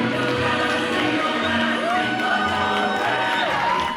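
Schoolchildren at a Linwood Avenue Elementary School Thanksgiving parade cheer wildly, a continuous roar of young voices with whoops and shouts rising and falling, lively and close, with no floats or balloons, just the kids.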